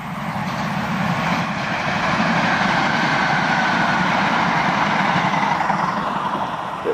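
A train rumbles steadily and loudly throughout, a continuous low, broad roar as if passing close by or idling nearby, with no voices.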